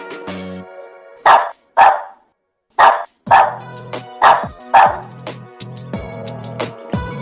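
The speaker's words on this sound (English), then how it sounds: "D for dog." A dog barks in short, sharp bursts, loud and close, with a run of several barks in quick succession followed by softer yips and whimpering sounds.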